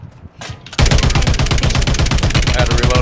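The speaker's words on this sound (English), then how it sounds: "Start shooting at him, Jamie." Rapid automatic gunfire in a video game, a loud, dense, continuous burst of evenly spaced shots that starts abruptly after a brief quieter moment and continues to the end.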